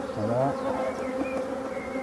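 Honey bees buzz densely around hive frames being cleared of bees at an orphaned hive, a close, continuous drone with shifting pitch and no talking.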